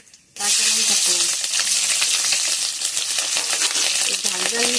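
Nigella seeds and green chillies hit hot oil with an abrupt loud burst of sizzling, then keep up a dense, crackling fry with sharp pops for several seconds.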